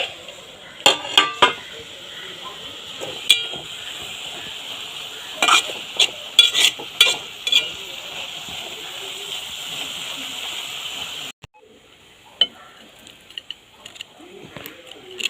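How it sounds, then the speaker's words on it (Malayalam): Banana flower and mackerel thoran being stirred in a frying pan, with scraping strokes and clinks of a utensil against the pan over a steady sizzle that stops near the end, leaving only faint scrapes. "ഇളക്കി കൊടുക്കാം."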